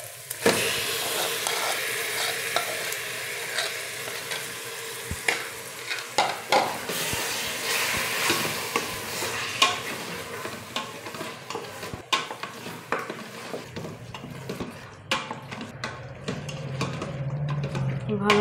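Mutton pieces frying with golden-browned onions in a pan for a spicy Bengali mutton curry, a continuous sizzle broken by frequent sharp clinks and scrapes of a spoon stirring against the pan, with a voice talking faintly at times.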